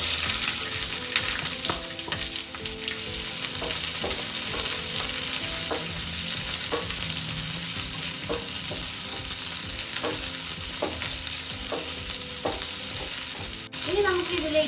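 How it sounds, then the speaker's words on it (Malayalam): Sliced onion and a green chilli split in two sizzle steadily in hot oil, a continuous close frying hiss broken by occasional stirring clinks, with no talking. "അരിഞ്ഞു വെച്ചിരിക്കുന്ന സവോളയും പിന്നെ ഒരു പച്ചമുളക് എടുത്തിട്ടുണ്ട്, അത് 2ആയിട്ട് കീറിയിട്ട് അതും നമുക്ക് എണ്ണയിലേക്ക് ഇട്ട് കൊടുക്കാം."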